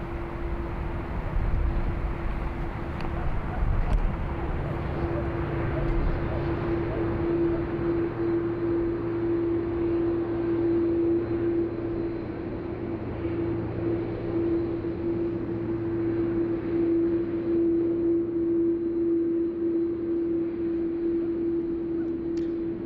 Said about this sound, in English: This will be Qantas 41 heading off to Jakarta